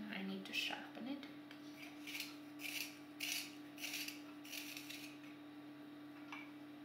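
A colored pencil is turned in a sharpener, giving soft rhythmic rasping scrapes in several short bursts, close and quiet over a faint steady hum.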